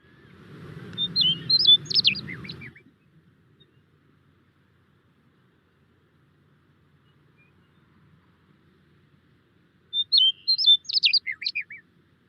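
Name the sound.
grassland state bird's descending, bubbling warble song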